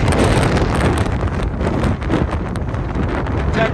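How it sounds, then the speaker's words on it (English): Strong wind roars steadily across the microphone on a mountain on the Appalachian Trail, blowing about 30 miles per hour, a loud continuous buffeting rush with no voices. "Just to show you how windy it is up here."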